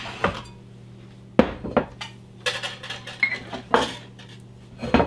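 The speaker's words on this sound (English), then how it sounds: "We're going to just whisk those together real quick, break up any clumps, make sure it gets integrated real good." Dry ingredients for keto pumpkin bread are whisked quickly in a bowl, producing loud, irregular metallic clinks and scrapes up close, with no talking.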